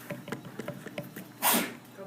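A single sharp sneeze in a classroom during a math lesson, bursting out suddenly after some faint background talk and shuffling, brief and fairly close.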